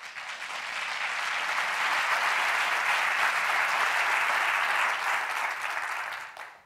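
Sustained applause from a conference audience greeting primatologist Frans de Waal onto the stage, a dense steady clatter of many hands that holds evenly for several seconds before tapering off.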